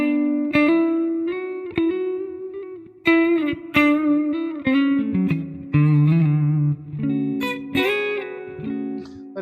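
Electric guitar played through a modelled Fender Deluxe Reverb amp, bright with scooped mids and a shiny top end, picking single notes and chords in a steady phrase, close and clear with no voices.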